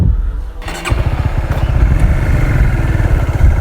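A motorcycle engine rumbles nearby after a brief quiet moment, its rapid chugging growing steady and loud, at a quiet clifftop viewpoint.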